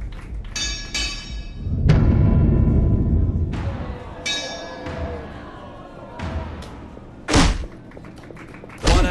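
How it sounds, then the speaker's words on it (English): Heavy punches land in the VR boxing game Creed: Rise to Glory, a few dull thuds and thumps spread out with sharper hits near the end, close and fairly loud. "Apollo really shows off his power with that blow."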